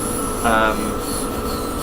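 A BR442 electric train slowing on its dynamic brakes, a steady close rumble and rolling hum with a brief higher-pitched whine rising briefly near the start.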